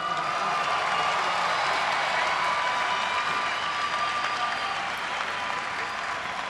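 A huge crowd of young people at Pope Francis's vigil in Panama applauds for Don Bosco, a loud, continuous roar of clapping mixed with scattered cheers and whoops that holds steady throughout.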